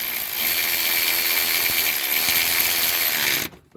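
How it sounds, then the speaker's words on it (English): A power ratchet runs bolts back in on a 2011-2017 Honda Civic torque strut mount, a loud close whirring buzz for about three and a half seconds that cuts off abruptly. "So then you just take your ratchet,"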